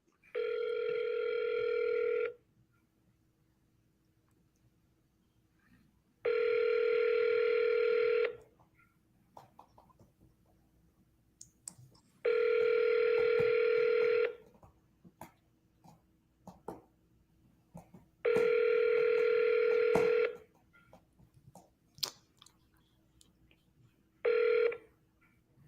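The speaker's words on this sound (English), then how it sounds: "we need to call Joy Allen, man." Ringback tone of an outgoing telephone call: five evenly spaced ring bursts, each about two seconds long with roughly four-second gaps, clear and alone over a quiet line.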